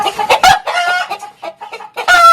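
An ash-grey hen and other chickens cluck loudly and close by in a noisy poultry pen, with a rapid run of short calls broken by brief pauses and a louder burst at the end.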